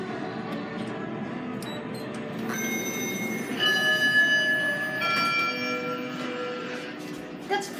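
A Schindler 3300 elevator at a Walgreens in Lincoln Park, Chicago, sounds a clear, sustained electronic chime, with a second tone a moment later. Both ring out over a steady low background hum.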